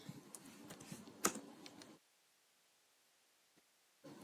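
Typing on a computer keyboard while entering a conda command, a quick, close flurry of soft key clicks with one sharper tap, then near silence before another brief burst.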